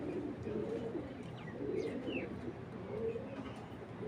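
A racing pigeon coos softly in low, rolling bursts, with faint chirps and a steady background hum.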